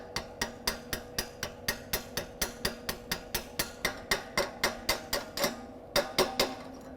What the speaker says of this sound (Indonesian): maka kita hilangkan teraknya menggunakan palu terak ini dengan cara memukulnya